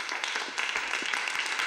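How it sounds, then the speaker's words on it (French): A studio audience on a television show breaks into dense, steady applause, a full wash of clapping that holds at even loudness throughout. "Sous vos applaudissements"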